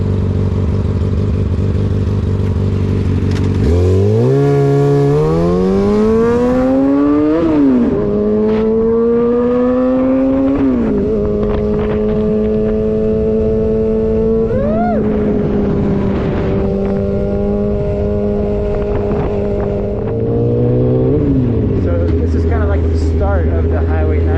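A loud Kawasaki ZZR600 sport motorcycle rides along a winding California highway, its engine revving hard through repeated upshifts and rising pitch sweeps, close and dominant throughout.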